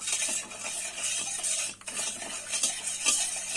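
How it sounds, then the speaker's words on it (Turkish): Coarse rock salt stirred into hot water with a spoon for brine, giving steady swishing and light clinks of metal against the vessel, close and continuous, with a brief pause midway. "Tuzla birlikte iyice bir karıştırıyoruz."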